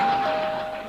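A doorbell in a TV sitcom gives a single short, clear electronic ding that rings out briefly.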